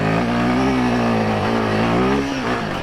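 A Royal Enfield Himalayan 450 motorcycle being ridden off-road, its engine loud and close, holding a steady harmonic drone with small rises and dips in pitch as the throttle shifts.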